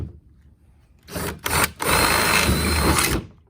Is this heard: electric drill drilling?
yes